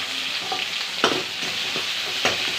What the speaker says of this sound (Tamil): வெங்காயம் நல்லா பொரிட்டோம்.